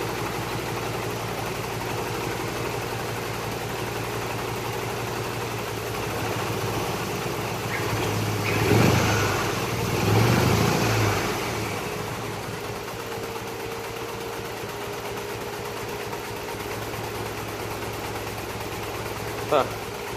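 A Mazdaspeed 3 engine idles with a steady low hum, then revs up gently twice in quick succession before settling back to idle, recorded nearby, with people talking over it.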